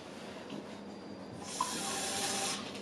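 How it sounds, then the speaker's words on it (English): Water runs and splashes steadily into a glass, growing fuller and louder partway through, with no talking. "I'm going to put just a smidge of water in it"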